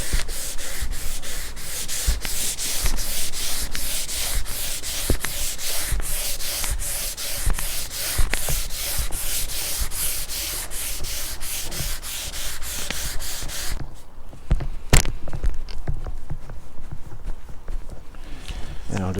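Hand sanding primer off a wooden cabinet of a 1941 AWA Fisk Radiola Model 276 radio, rapid rhythmic back-and-forth scratchy strokes, close and steady, slowing and lightening toward the end, with speech over it.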